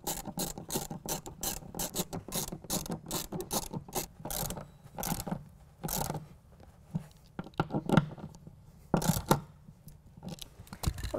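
Tie-down cleat being bolted into the carpet-lined bed of a 2017 Honda Ridgeline with a ratchet, giving rapid clicking ratchet strokes in quick bursts that slow into sparser clicks and knocks, close up.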